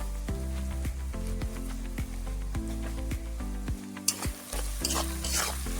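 Onions fry in oil with a little salt on the way to browning for a winter duck curry, giving a continuous sizzle. A spoon scrapes the pan in regular strokes, with a brighter burst of spitting near the end. No one speaks.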